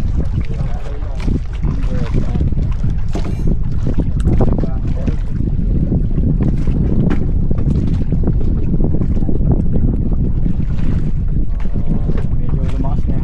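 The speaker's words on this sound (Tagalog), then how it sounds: "Medyo lumakas na yung hangin." Strong wind buffets the microphone at sea during a boat fishing trip, producing a loud, continuous rough rumble with splashing water underneath and no clear speech.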